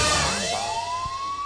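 Police siren wailing loudly and close, its pitch sweeping up in a rising whoop that holds steady, with no voices.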